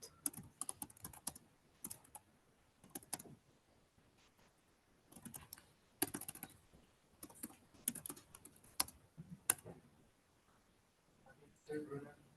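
Someone types a git commit message on a computer keyboard: clusters of quick keystrokes broken by short pauses, fairly faint and close.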